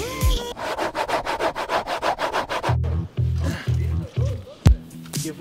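Screwing into wood while building a tree house: a rapid, rhythmic rubbing and grinding of a screw biting into timber, followed by several short, heavy thumps and knocks close by.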